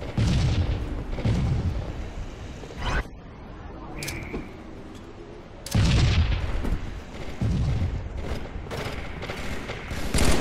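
Rocket launcher blasts in Halo 3 land in a few heavy booms spaced several seconds apart, each followed by gritty rumbling game noise, with a loud burst near the end.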